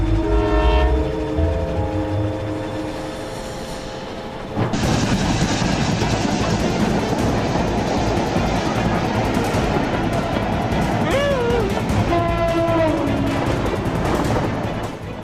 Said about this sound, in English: It's simply a snowplow train in Canada doing unbelievable work.